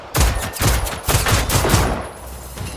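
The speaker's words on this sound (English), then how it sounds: "I'll take some pot shots. Why not? And continuous burst." Rapid bursts of gunfire from a gun in the video game Generation Zero, several loud close shots in quick succession with no talking.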